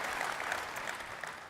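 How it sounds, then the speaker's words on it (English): A conference audience applauds in a brief, steady burst of clapping heard at a moderate distance. "Let's give Mike a round of applause, please"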